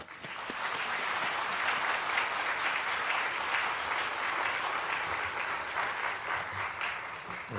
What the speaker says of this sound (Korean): 여러분 목사님 나오실 때 박수를 크게 축복합시다.